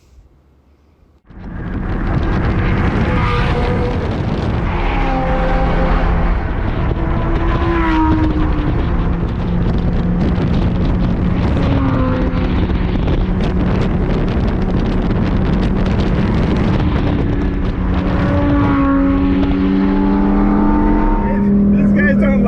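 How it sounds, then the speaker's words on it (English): Several Lamborghini Huracan Performante cars drive past with loud, continuous engine and exhaust roar rising and falling in pitch through the gears, heavy wind buffeting on the microphone throughout. "let's shut down this music and listen to some of these Performante exhaust notes."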